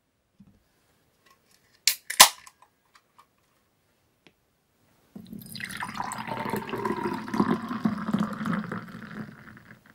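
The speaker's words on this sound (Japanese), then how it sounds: "それではビール注いでいきます。" Cold beer, a Niigata-area brew, pours from a bottle into a freezer-chilled glass. After two brief clinks, a steady, close, foaming pour runs for about five seconds and then tapers off.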